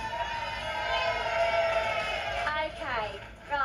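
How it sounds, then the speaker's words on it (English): Game show audience cheering and whooping for elf-themed contestants, a broad, steady crowd roar with high-pitched shouts rising near the end, voices mixed throughout. "should we give them a cheer?"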